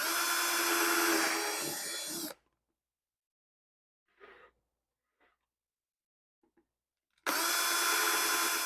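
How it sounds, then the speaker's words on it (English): Power drill boring a drainage hole through a plastic plant bucket, a loud steady whine for about two seconds, then quiet with a few faint knocks before the drill runs hard again at the end. "we're going to carefully drill a hole directly above it, closer to the outer edge"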